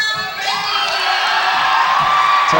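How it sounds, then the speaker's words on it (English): Crowd at a 2006 homecoming ceremony during a girls' high school basketball game cheers, whoops and shouts for the newly named homecoming king, a sustained, loud roar of voices with high yells rising throughout. "Tom Brindley gets a big crowd applause from the crowd here."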